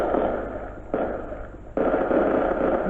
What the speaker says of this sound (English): Whoa, look at that. The fireworks.